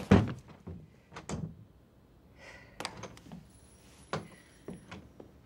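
A locked door being pushed and rattled, a series of scattered dull thunks and knocks at uneven intervals with quiet gaps between them, moderately close, no talking.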